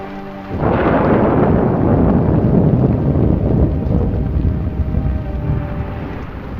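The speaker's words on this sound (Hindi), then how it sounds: "बारिश भी बहुत जोर से हो रही है" A sudden deep rumble of thunder rolls in and lingers over a dense, steady wash of heavy rain and wind.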